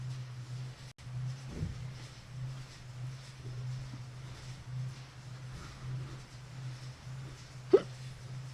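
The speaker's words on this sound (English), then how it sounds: "oh boy, hiccups." A person hiccups several times. The hiccups are short, sharp and spread out, heard over a constant low hum. One louder hiccup comes near the end, and there is no speech.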